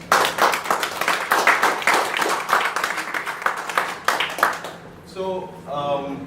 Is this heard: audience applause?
yes